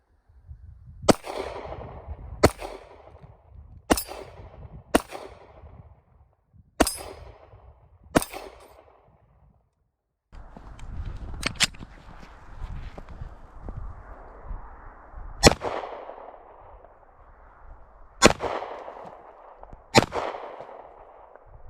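A Ruger American Pro Compact Elite .45 Auto pistol fires single shots with full metal jacket rounds, sharp loud reports with ringing decay spaced a second or two apart, about a dozen in all, outdoors.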